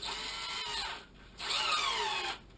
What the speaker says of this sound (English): Within like 10 seconds you get your hole drilled.